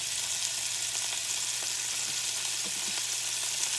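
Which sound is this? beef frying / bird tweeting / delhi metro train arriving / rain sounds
beef frying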